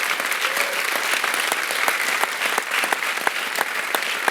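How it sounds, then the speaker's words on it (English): An auditorium crowd at a college fall convocation gives a big, sustained round of applause, steady and even throughout with crisp claps scattered through the dense wash, no talking over it. "Outreach staff counseling, give them a huge round of applause."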